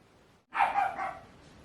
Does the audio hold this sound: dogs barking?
yes